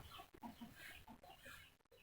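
Burmese fighting chickens cluck softly and intermittently, faint and somewhat distant, with light rustling in between.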